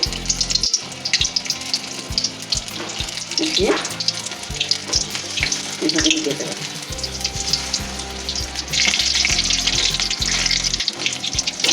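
Batter-coated stuffed capsicum fries in hot oil with a loud, continuous bubbling sizzle and some stirring clatter, and a brief spoken remark partway through.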